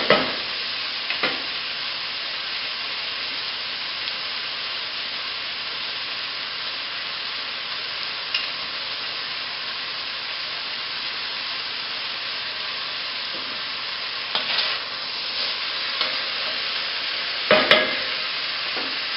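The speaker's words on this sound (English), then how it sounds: "now we're going to add about 5 cloves of crushed garlic and a tablespoon of chopped ginger. Let this cook for a sec" Crushed garlic and chopped ginger sizzle steadily in a hot pan for a vegetable curry, a constant frying hiss with a few sharp stirring scrapes and spatters breaking through, no talking.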